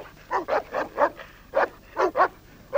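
Shepherd dogs bark repeatedly at close range, a quick run of sharp, throaty barks in uneven bursts, with a short pause midway before more barking.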